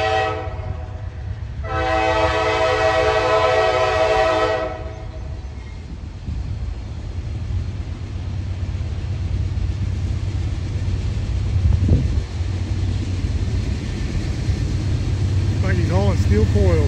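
A northbound Buckeye freight train hauling steel coils climbs a grade out of the Ohio Valley at Crescent Springs, Kentucky, blowing a loud multi-tone horn for a few seconds before a steady, rumbling engine drone takes over.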